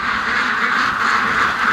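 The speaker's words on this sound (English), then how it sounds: "the ducks are just staying in a big circle" A dense crowd of ducks quacks continuously and loudly as they gather in a big circle during a storm, with the calls blending into a steady clamor.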